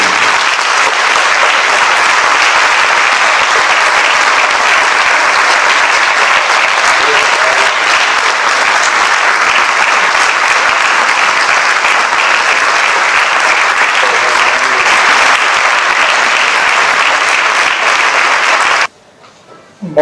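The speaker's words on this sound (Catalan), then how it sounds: "Aplaudiment per l'Enric, Premi Mèrit Musical del 2020." An audience applauds steadily for Enric, winner of the 2020 Musical Merit Award, with dense, sustained clapping at full volume that cuts off abruptly near the end.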